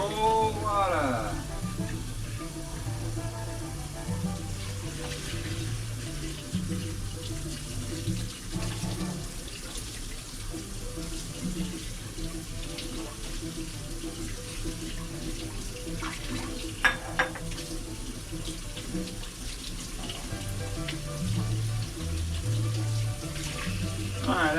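Cold tap water runs steadily into a sink for a long stretch, rinsing cooked rice noodles, a continuous splashing stream under background music and occasional talk.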